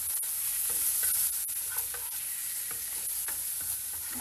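Onion and tomato stir-frying in a pan with a constant bright sizzle and irregular stirring scrapes and clacks, close and fairly loud, no talking.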